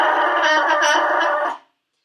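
A singer demonstrates a yodel-like vocal with added vocal fry, a steady bright sustained voice held for about one and a half seconds before cutting off, loud and close with no other sounds.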